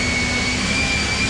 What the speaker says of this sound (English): So I'm gonna blow the blower now